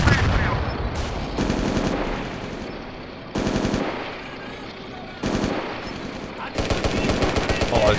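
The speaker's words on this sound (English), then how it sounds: "Or I'll just hose it down with machine gun fire." Machine gun bursts from a BT-5 Mod. 39 tank in the combat game Steel Fury, loud close rapid fire in four or five separate bursts with short pauses between.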